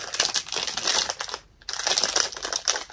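Plastic packaging on a small faux leather wristlet crinkles and crackles loudly and continuously up close as it is pulled open, with a brief pause midway and no talking.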